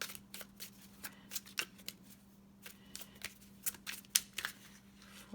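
Magical incantation cards are drawn and shuffled for a tarot-style reading, giving soft, close papery riffles and flicks in short uneven bursts over a quiet low hum.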